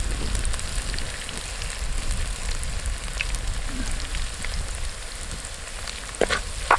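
Tender coconut curry ingredients with curry leaves sauté in a pan, giving a steady close sizzle and frying hiss with occasional stirring clinks near the end.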